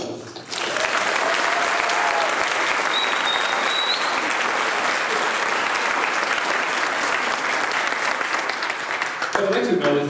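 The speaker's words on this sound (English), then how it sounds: "Can I get a round of applause?" Sustained applause from a large graduation convocation audience, a dense even roar of clapping lasting about ten seconds before tapering off near the end.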